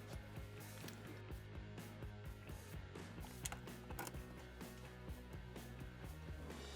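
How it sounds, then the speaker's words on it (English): Ratcheting and metallic clicks from loosening the primary drain bolt on a Harley-Davidson Evo Sportster, a steady run of close, busy mechanical clatter with occasional sharper clinks. "drain the primary fluid by removing this bolt"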